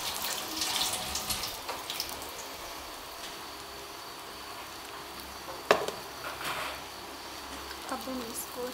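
Hands are washed under a running kitchen tap while baking sweet bread, with a faint, steady splash of water and a few soft clatters in the background.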